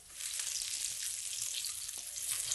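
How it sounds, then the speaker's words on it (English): A salmon fillet sizzling in a hot pan after being flipped, giving a steady, close frying hiss with small crackles and no talking. "All right, time to flip the fish."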